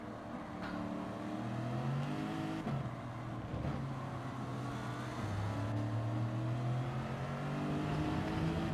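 McLaren race car engine roaring during a Gran Turismo 7 Nations Cup race, a steady loud drone with shifting pitch as gears change and other cars run alongside, no talk.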